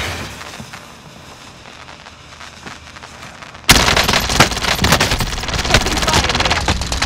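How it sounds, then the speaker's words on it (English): Sudden loud bursts of automatic gunfire in Call of Duty: Modern Warfare erupt midway, rapid shots and fusillade following a quieter stretch of distant battle noise. "Taking fire"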